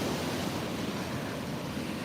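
Ocean waves crash and wash up a shoreline in a steady, close roar of broadband surf with light wind noise, continuous and without talk.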